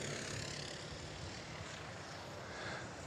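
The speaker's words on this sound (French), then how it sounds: "devant nous passent les cartes très regroupées" A tightly bunched pack of racing karts passes on the track during a 24-hour endurance kart race, a faint, distant, steady engine drone that blends into a continuous roar.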